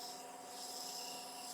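A turned wooden capsule box spins on a lathe while a small sanding pad rubs its outside at 400 grit, giving a steady, even hiss with a faint motor hum beneath, close and continuous.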